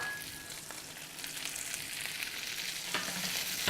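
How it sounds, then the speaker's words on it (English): Garlic and a couple pounds of green beans fry in a pan, giving a steady broadband sizzle with a faint scrape partway through; no one speaks. "Add them to the pan along with our green beans."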